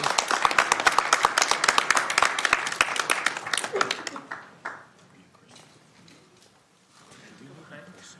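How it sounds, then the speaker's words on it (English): Audience applause at a Sacramento city council meeting, a burst of clapping under a loud voice for about four seconds, then fading into quieter room murmur. "Let's give them a big round of applause."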